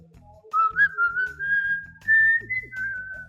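A person whistles a song tune alone, clear melodic phrases rising and gliding, with short pauses between lines, close and fairly loud over a faint low background hum.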